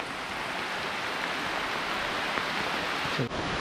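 Heavy rain pours down in a dense, steady hiss during a trek to Kothaligad fort, loud and unbroken throughout, with a brief thump near the end.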